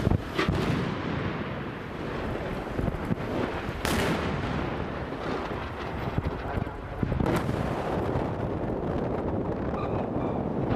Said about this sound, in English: Those are indiscriminate Hamas rockets striking nearby